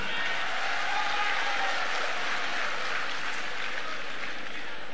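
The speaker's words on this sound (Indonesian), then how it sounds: "Tepuk tangan untuk kedua menteri kita." A crowd at a political party national meeting applauding, sustained dense clapping that holds at a steady level throughout.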